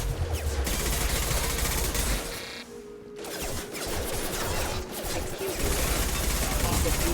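Dense, continuous gunfire crackles through a sci-fi firefight in Mass Effect 2, dipping briefly before resuming, with a voice speaking over it.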